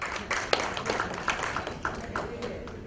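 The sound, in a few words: audience clapping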